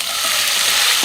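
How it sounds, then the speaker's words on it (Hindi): Gram flour batter hits hot oil with a curry leaf tempering and fries with a loud, steady, close hiss and sizzle, likely being stirred, with no talk. "और अब हम बैटर डालते हैं।"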